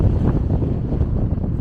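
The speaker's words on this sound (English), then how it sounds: "wow, it's so windy." Strong wind in Edinburgh buffeting the microphone, a loud continuous low rumbling roar with no voices over it.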